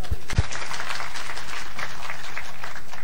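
Audience applause fills the room, a dense steady clapping from a crowd at a motivational talk, with a couple of sharp low thumps near the start.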